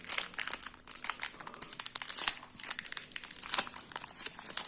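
A Pokémon card booster pack wrapper is torn open and crinkled, a loud, close, continuous rustle of crackling foil-like plastic with sharp tearing bursts and no voices.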